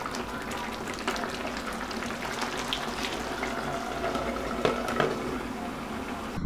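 Tomato sauce with crushed garlic simmers in a pan, a continuous soft bubbling and sizzling hiss with occasional small pops, steady and close.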